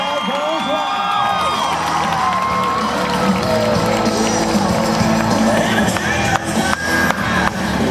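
A rodeo crowd at a Vancouver barrel racing event cheers and whoops loudly and steadily, with an announcer talking over the noise throughout.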